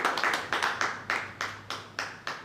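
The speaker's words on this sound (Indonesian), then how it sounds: "Beri tepuk tangan." A church congregation at a Sunday service claps in a steady, moderately paced rhythm. The claps are distinct and evenly spaced, with no voices over them.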